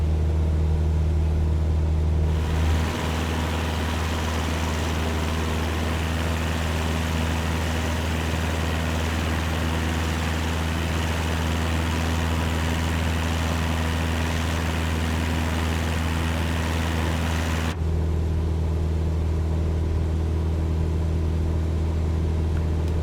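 In Microsoft Flight Simulator 2020, a Cessna 172 piston engine drones steadily as it climbs after takeoff, a constant loud buzz that runs for most of the stretch with no talk.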